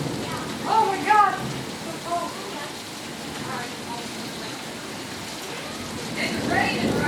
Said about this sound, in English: It's raining, Riley.